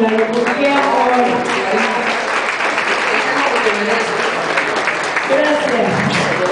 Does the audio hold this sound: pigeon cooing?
no